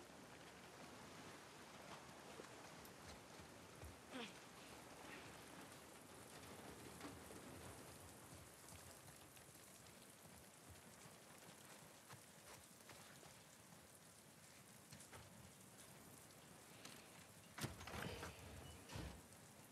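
Rain falls steadily in a rainy scene from The Last of Us Part II, a soft, even hiss of drops on surfaces throughout, faint and continuous with a few slightly louder spatters.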